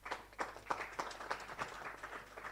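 A small audience claps for a speaker at a regional entrepreneurship competition event, scattered light handclaps fairly faint and distant, with no one speaking over it.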